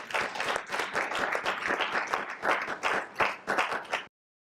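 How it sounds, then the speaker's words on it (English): A conference audience at a closing summit session applauds, a moderately loud burst of many hands clapping that continues steadily for about four seconds, then stops abruptly. "Applause."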